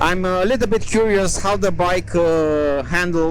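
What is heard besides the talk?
No everyday noises stand out.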